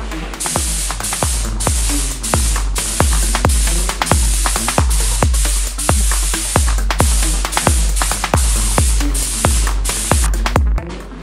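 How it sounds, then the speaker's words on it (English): Repeated short hissing bursts of spray paint on a Cervelo R5 bicycle frame, about two per second in a steady rhythm, loud and close with no talking. "I can spray on the matte clear coat."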